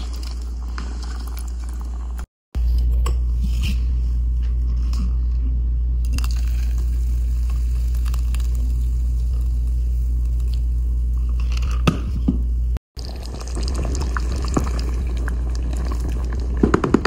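About a kilogram of chicken cooks in masala in a pan at home, giving a steady bubbling, simmering sizzle with a low hum underneath and a couple of brief dropouts, no voices.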